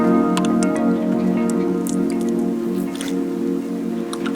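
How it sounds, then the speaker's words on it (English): A small child splashing bathwater, a scattered run of short wet slaps and drips over a steady tonal hum in the background. "she's learned how to splash"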